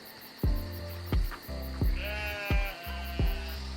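Sheep bleat five times in a steady series, each call loud and close with a sharp onset and a wavering, drawn-out tail, with no voices around them.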